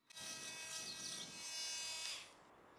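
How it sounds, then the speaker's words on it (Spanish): A multi-tool working wood while building a catio, a steady close rasping buzz that holds for about two seconds and then stops abruptly. "tuve que arreglármelas con una multiherramienta, lo cual en realidad funcionó bastante bien"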